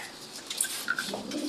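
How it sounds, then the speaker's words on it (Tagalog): Pigeons kept in a backyard loft give soft, short coos and calls, faint and brief, with a few light chirps over quiet background. "Ito nga pala yung mga kalapati namin."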